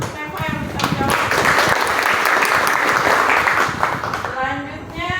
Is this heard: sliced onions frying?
no